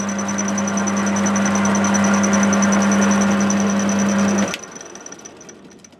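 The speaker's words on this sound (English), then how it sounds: "The face of the motor end shield has now been turned down nicely." A metal lathe facing the end shield of a fractional-horsepower electric motor, taking a very light cut, gives a steady loud motor hum with a high whine for about four and a half seconds, then cuts off abruptly as it stops.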